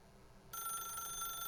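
A telephone rings in the video game The Stanley Parable, a steady electronic trill that starts abruptly after a half-second of quiet and carries on loud and unbroken.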